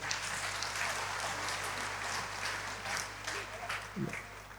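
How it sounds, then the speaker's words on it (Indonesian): Applause from an audience at a book-discussion event, a faint, continuous patter of clapping heard at a distance in a reverberant hall, steady throughout with little variation. "Tepuk tangan dong Bapak Ibu."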